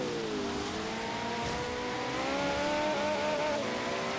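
A McLaren in the Forza Horizon 3 racing game accelerates, its engine note climbing in pitch under a steady loud drone that fills the whole stretch, with no talk over it.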